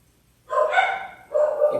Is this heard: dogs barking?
yes